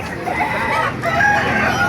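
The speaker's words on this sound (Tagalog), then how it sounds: "Napakaraming manok dito" Chickens cluck nearby while a rooster crows at an animal market in Baliuag, Philippines, loud and close, with overlapping calls from several birds.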